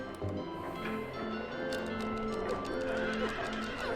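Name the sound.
horse whinnying when hit, from the video game Silent Hill 3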